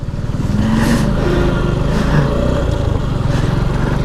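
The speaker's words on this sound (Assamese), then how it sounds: "finally water crossing on my bike" A motorbike splashes across a water crossing near Kakochang waterfall, its engine chugging loud and close with rhythmic revving and surges of splashing.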